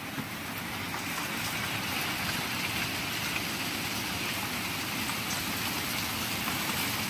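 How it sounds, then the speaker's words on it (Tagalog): Heavy rain pouring down outdoors in the Philippines, a loud, dense, continuous roar with steady drumming and no talking. "Malakas na ulan."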